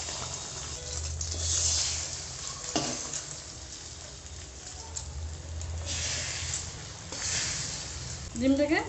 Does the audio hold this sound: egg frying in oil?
yes